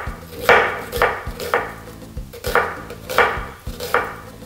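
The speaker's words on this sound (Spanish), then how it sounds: "Vamos a cortar la cebolla. La cebolla yo la hago igual que el nopal. La parto por la mitad." A kitchen knife chops through an onion on a cutting board while nopales are prepared, giving about eight sharp, evenly spaced thuds close by with no talking.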